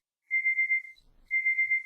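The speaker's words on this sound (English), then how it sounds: "Great, that's my alarm." An alarm beeps loudly and close in two sustained shrill bursts, each pulsing in a fast warbling rhythm, with a short quiet gap between them and no talking.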